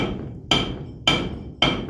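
Three loud, sharp hammer strikes land about half a second apart, each ringing briefly before fading, close by with no talk.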